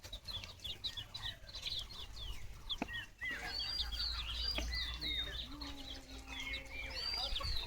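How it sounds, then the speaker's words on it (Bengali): Farmyard chickens cluck and squawk nearby, with a few sharp wing flaps and scuffles among them, over a low outdoor rumble; faint voices are heard in the background. "মুরগি।"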